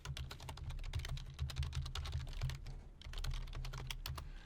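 Rapid typing on a computer keyboard while writing program code, a close, dense run of crisp key clicks with a brief pause midway, no voices.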